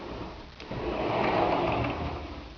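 A pocket door in a master closet slides along its track, a steady rolling rumble that swells and fades over a couple of seconds, close by with no voices.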